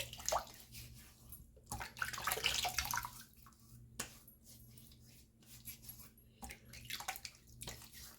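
Warm water runs from a faucet into a sink while a face is wetted before shaving, a faint, uneven splashing and trickling with quiet gaps between bursts.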